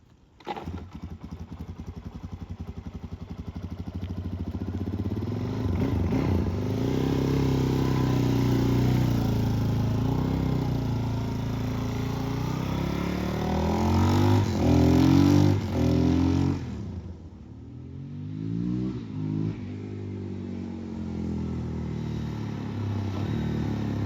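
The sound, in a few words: Suzuki motorcycle being ridden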